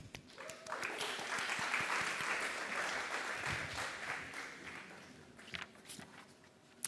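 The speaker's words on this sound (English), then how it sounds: "Give a huge round of applause for Richard Laurent Elamari, General Manager, Middle East of Fever" A conference audience at a marketing event in Dubai applauds a speaker being introduced, a dense, steady wash of clapping that holds loud for several seconds and then thins out toward the end.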